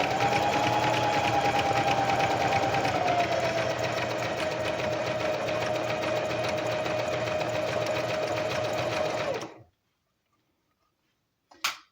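Sewing machine running continuously as it stitches slippery fabric, a fast, even mechanical whir that eases slightly in pitch, then stops abruptly, followed by silence and a short clunk.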